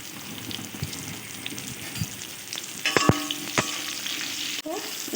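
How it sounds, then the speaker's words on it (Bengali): Bitter gourd fries in hot oil in a pan, with a continuous broad sizzle and a few sharper clicks and scrapes of stirring near the middle, with no talk. "আমি ওই তেলে উচ্ছেটাও ভেজে নেব।"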